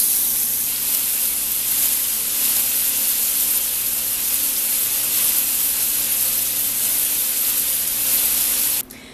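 A gluten-free gyro burger patty sizzles loudly and steadily in a hot pan just after being flipped, a dense continuous hiss that holds for about nine seconds before cutting off abruptly.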